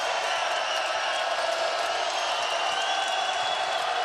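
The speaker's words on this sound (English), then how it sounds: "Crowd is alive here at Devlin" Crowd cheering and applauding at a UConn at Tulane men's basketball game in Devlin, a steady, dense roar filling the arena without a break.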